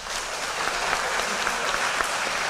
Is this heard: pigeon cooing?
no